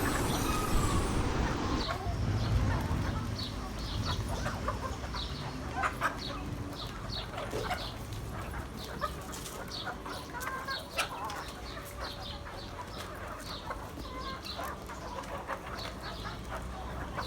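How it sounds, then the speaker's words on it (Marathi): Several chickens cluck and chatter softly at a moderate distance while being fed grain, with faint rustling and scattered pecking sounds in an outdoor setting. "आपल्या कोंबड्यांना दाणे टाकते आणि कोंबड्याची जे एकदम पूर्ण गोल भोवती बसलेले आहेत"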